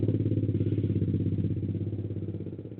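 A motorcycle engine idles steadily nearby, its low, pulsing rumble throbbing in an even rhythm throughout.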